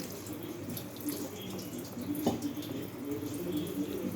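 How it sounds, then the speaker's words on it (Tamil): Water runs steadily into a pan of cooking drumstick leaves (moringa), a continuous splashing flow with a brief knock partway through. "இப்போ கொஞ்சம் தண்ணி சேர்த்துக்கலாம்"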